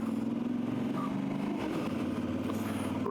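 A Voge DS800X Rally motorcycle engine drones steadily while riding, a close low rumble with a faint rising note and light clatter, with no talking.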